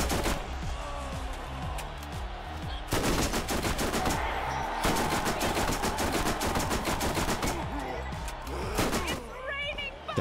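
Rapid gunfire from the video game Borderlands, a Mad Moxxi Underdome round in The Gully arena, with dense bursts of shots rattling almost without pause for the whole stretch, briefly easing near the three-second mark before resuming.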